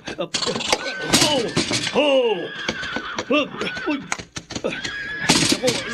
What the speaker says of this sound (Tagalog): Masisira na po yata ang kwadra sa katatadyak niya.